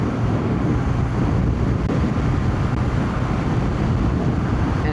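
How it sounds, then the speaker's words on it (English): Strong wind buffets the microphone on a BMW R12 motorcycle ride in a constant, loud low rumble with no pauses and no voices. "It's just super windy. I hope the microphone is not picking up a lot of the wind"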